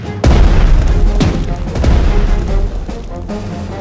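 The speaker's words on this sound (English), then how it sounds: "Firing as we go. Keep firing!" Heavy gunfire in the naval-air strategy game Strategic Mind: The Pacific, loud booming shots with a sharp one near the start and another about a second later over a continuous rumbling din.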